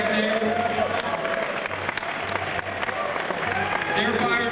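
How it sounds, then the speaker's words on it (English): Crowd applause for contestants on stage, sustained clapping with light cheering at steady volume, overlaid by talking voices and a droning hum. "Let's give them a round of applause"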